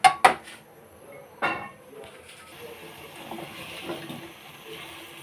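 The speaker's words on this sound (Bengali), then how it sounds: "ঝোলটার মধ্যে সবজিটা দিয়ে ভালো করে কষায় নিব" A pot of fish curry broth with cauliflower, beans and potatoes being stirred, sharp metallic clinks of a utensil against the pot followed by a low bubbling, wet simmer, close by.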